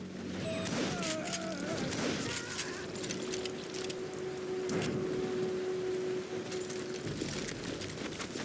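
Gunfire from the Wild West video game Call of Juarez: Gunslinger, loud, dense overlapping shots and mechanical clanks running through the whole stretch over a steady background, with a voice speaking over part of it.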